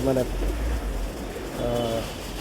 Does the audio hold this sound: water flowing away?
no